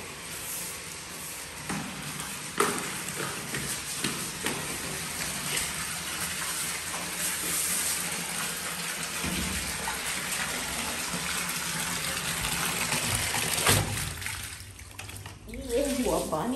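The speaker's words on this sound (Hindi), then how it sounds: "ये हुआ पानी।" Water pours and splashes steadily onto a floor by a doorway during home cleaning, a continuous gushing wash that runs the whole time with brief knocks, while someone talks over it.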